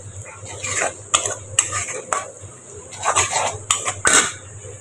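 A metal spoon scrapes and clanks against a cooking pot as spice paste is poured over fried onions and stirred for a beef roast, irregular sharp knocks over a low background hum.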